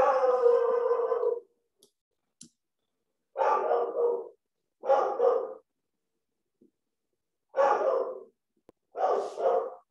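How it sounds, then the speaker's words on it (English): A dog barks in four separate bursts of rapid, loud barking, close by with short silences between them, sounding agitated at something outside a window. "My dog is unhappy with something."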